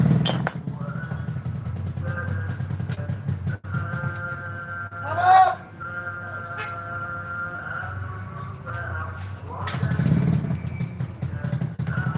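Motorcycle engine idling steadily in a repair workshop, swelling into two short revs as the throttle is opened, with faint clinks in the background.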